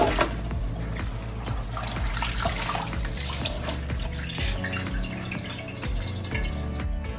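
Water draining from salted greens set in a colander for Korean pickled vegetables: irregular drips, trickles and splashes run continuously at close range, with no talking.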